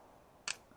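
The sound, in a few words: Sig P320 X5 pistol trigger click on a failure to fire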